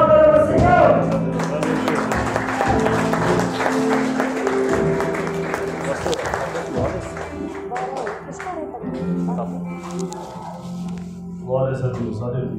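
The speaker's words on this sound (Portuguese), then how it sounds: "e as palmas para o Senhor" A church congregation claps for the Lord during a service, with rhythmic applause and thumps under music and talk, loudest early on and then fading as the clapping thins out.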